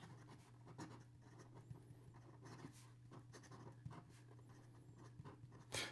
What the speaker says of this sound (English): Here we go with the writing sample for the Sailor Pro Gear